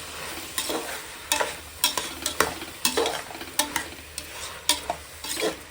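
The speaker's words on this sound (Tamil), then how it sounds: "பச்சை பட்டாணி உருளைக்கிழங்கு கேரட்டு பீன்ஸு இதெல்லாம் போட்டு இது கொஞ்சம் நேரம் வதக்கிக்கலாம்" Green peas, potato, carrot and beans sauté in a pan, with irregular scraping stirs of a spoon over a soft frying sizzle, close and clear with no talk.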